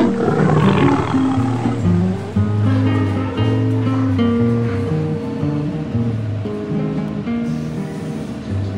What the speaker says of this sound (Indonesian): Sarapannya ditemani auman singa.